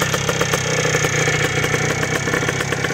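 Restored 1984 Yamaha YZ465 two-stroke motocross bike engine running steadily with a rough, poorly jetted rattling note, close and loud, no talk.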